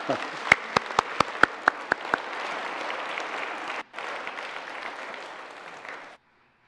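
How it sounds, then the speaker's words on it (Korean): Church congregation at a Christmas service gives sustained applause, a few sharp individual claps at the start and then a dense, even wash of clapping that dips briefly and stops abruptly. "큰 박수로 환영하겠습니다"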